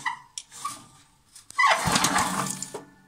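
Chainsaw being pull-started by its cord: a few short rasping pulls, then a longer buzzing whir as the motor turns over briefly without catching, stopping abruptly.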